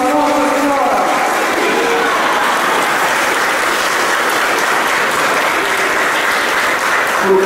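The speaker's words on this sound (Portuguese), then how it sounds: "Uma salva de palmas para Nossa Senhora" A church congregation at Mass applauds in honour of Our Lady, a loud, dense and sustained wash of clapping that holds steady for several seconds, with faint voices and tones underneath at the start.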